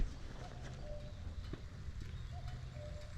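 A cuckoo calls twice in the distance on a wet spring dairy farm, its faint two-note cries carrying over quiet outdoor background noise.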